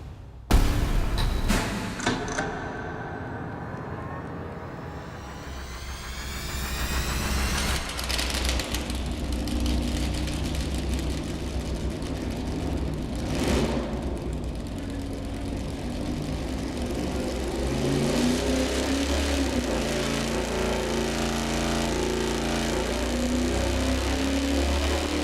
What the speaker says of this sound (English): we're gonna fire it up initially with the camshaft with 106 lobe separation angle